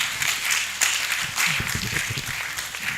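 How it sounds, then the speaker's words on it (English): Audience applause at a New Year School and Conference, steady clapping from many hands with some individual claps standing out, mid-distance and moderately loud. "please applaud them for me"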